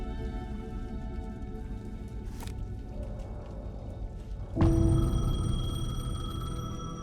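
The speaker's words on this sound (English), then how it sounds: "The payphone was ringing." A payphone starts ringing in the video game Alan Wake 2, a loud, steady bell that cuts in partway through over the constant patter of rain.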